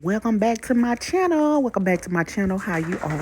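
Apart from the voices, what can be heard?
No everyday noises stand out.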